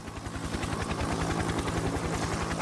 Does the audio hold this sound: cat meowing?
no